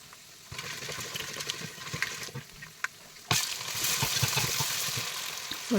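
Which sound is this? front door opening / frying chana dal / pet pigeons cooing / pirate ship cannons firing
frying chana dal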